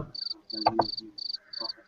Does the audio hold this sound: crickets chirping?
yes